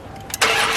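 A cold 2019 Dodge Challenger Hellcat Redeye cranks briefly, then catches and bursts into a loud, close engine roar within a second.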